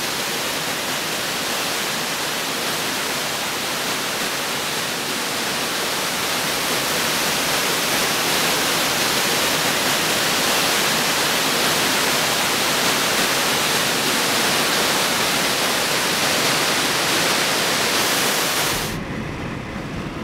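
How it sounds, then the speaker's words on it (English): Sullivan Falls, a waterfall near Bloomsburg, roars in a steady, loud broadband rush close to the listener, unbroken for most of the stretch before cutting off abruptly near the end. "we are approaching Sullivan Falls. My favorite waterfall."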